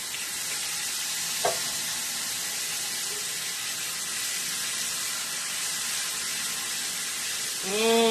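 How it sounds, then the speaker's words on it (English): Balsamic vinegar hits a hot pan of chicken with figs, giving a steady, loud hiss that fills the whole stretch, with one brief clink early on and a faint squeak near the end. "I'm going to throw some of this balsamic in here."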